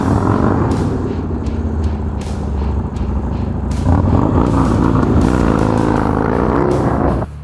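A motorcycle engine revs hard and close as the rider opens the throttle, a loud, sustained, rising and falling growl that holds throughout.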